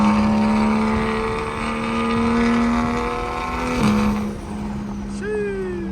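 A straight-piped single-turbo BMW 335is while driving, giving a loud, continuous droning exhaust note that swells and eases, then dips sharply near the end before climbing again.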